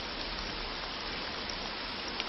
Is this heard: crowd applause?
no